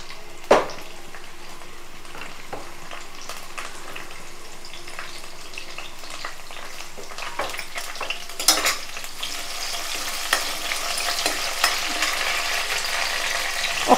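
Curry leaves and chillies frying in hot oil in a pan, a steady crackling sizzle that grows busier and brighter midway, with occasional sharp pops and utensil scrapes, no speech.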